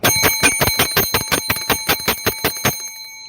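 Bell sound effect from a talk stream: a rapid run of bright, ringing bicycle-bell-like dings in a steady rhythm, loud and close, lasting about three seconds before ending with a short fading ring.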